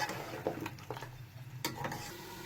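Spices and green chillies fry and are stirred in oil for beef nihari, giving a soft, steady sizzle with scattered scraping stir sounds and a sharper burst midway, close by with no talking.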